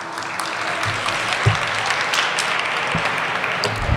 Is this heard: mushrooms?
no